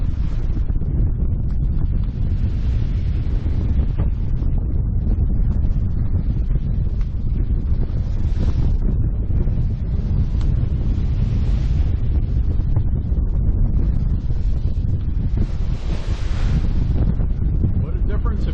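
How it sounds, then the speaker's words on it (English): Strong, steady wind roars across the microphone aboard a Catalina 30 sailboat under way in spirited conditions, a continuous loud low rumble with gusts swelling around the middle and near the end, mingled with wash of water against the hull. "It seemed like the wind had been calming down quite a bit, and now it's kicked up again"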